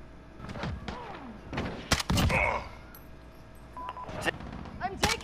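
Gunfire in Call of Duty Warzone strikes the player in a few sharp bursts and thuds, mixed with game effects and a talking voice.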